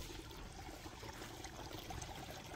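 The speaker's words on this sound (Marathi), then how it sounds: "इथूनच पाणी येते त्याच्यामुळे आवाज येतो तो खड्ड्यामध्ये" Water trickles steadily into a pit beside a village path, a soft continuous broadband wash with faint gurgles, fairly quiet and uninterrupted, with no voices.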